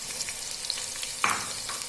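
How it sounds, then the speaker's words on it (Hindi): Onions frying in hot ghee for a black chana curry, a steady close sizzle with a sharper hiss burst partway through as pieces are stirred, no voices. "मैं इसमें प्याज ऐड कर दूंगी और इसको मीडियम ब्राउन होने तक"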